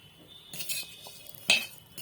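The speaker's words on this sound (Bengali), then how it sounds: "এখন এই দেখো সিমাই 2 প্যাকেট ভেজে নিচ্ছি" Two packets of vermicelli fry in white oil in a pan: a few sharp metallic clinks and scrapes of a utensil against the pan, close up, over a faint background hiss.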